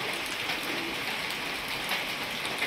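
Heavy rain pours steadily on a home near Hatisila temple in Panikhaiti, Guwahati, a dense, even hiss that stays loud and unbroken throughout with no voices.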